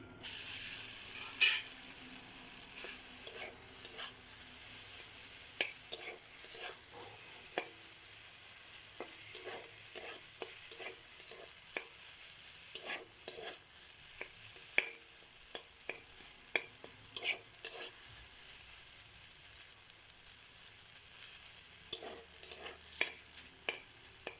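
Maggi noodles fry with a fried egg in a pan: a soft continuous sizzle with frequent sharp scrapes and clicks of a spatula stirring, fairly quiet throughout.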